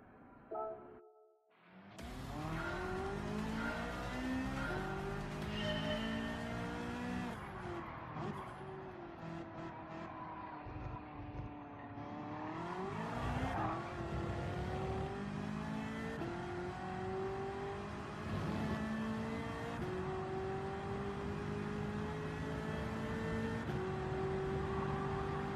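A race car in Gran Turismo 7 runs through turn one on carbon brakes, its engine whining loudly with steady rising and falling gear pitch, and faint talk underneath.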